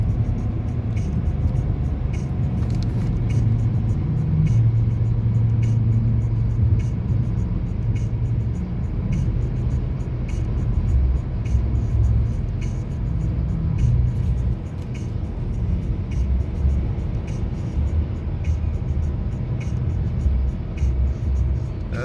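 A car travels at speed on the Interstate 94 freeway, a steady, loud road roar and low engine hum filling the cabin without pause, tire noise constant throughout.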